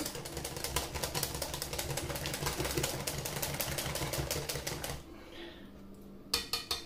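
Dough for viennoiseries and fatayer being mixed in a bowl, a fast, steady rhythmic tapping and clattering of a utensil against the bowl that stops abruptly, then resumes briefly after a pause.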